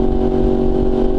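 A 2018 Yamaha R1 motorcycle engine holds a steady, loud, close droning rumble with a strong tonal hum, running continuously without clear revs or pauses.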